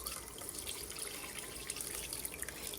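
Herbal oil strained through a strainer for a scar tissue salve, a steady close trickling and splattering liquid flow continuing throughout without a break.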